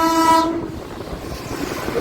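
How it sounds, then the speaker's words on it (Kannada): A train on the line beside a national highway in India, with a loud horn blast at the start giving way to a steady rumble and rattle of the passing carriages. "ಕ್ರೇಜಿಯಾಗಿ ಬಂತು ಅಲ್ಲ ಟ್ರೈನ್ ಮಾತ್ರ."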